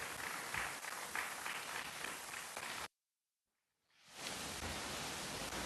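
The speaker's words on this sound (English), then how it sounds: "How about another round of applause for Jason, ladies and gentlemen" A crowd applauds at a business headquarters launch event in a dense wash of clapping that cuts off abruptly to silence, then swells back in and continues.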